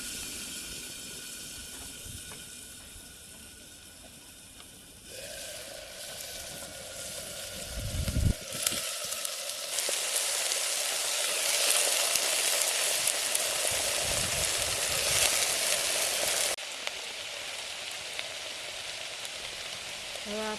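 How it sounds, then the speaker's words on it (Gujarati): Mustard seeds and cumin crackle and pop in hot oil, then kubi vegetable goes into the pan, giving a rain-like sizzle that swells and fades, with sharp clatters midway in a village kitchen. "રાઈ ને જીરું કકડી ગયું છે. અને આપણે પેલા કુબી નાખી દઈએ."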